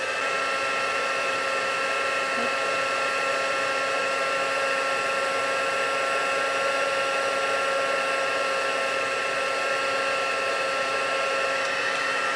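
Heat embossing tool blowing steadily to melt clear embossing powder on a snowflake card, a loud, continuous hot-air whir with a stable whine that runs unbroken throughout, no voices.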